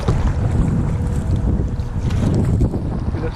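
Steady wind buffeting a kayak out on open water during a bass fishing trip, a constant low rushing roar with microphone wind noise throughout and no talking.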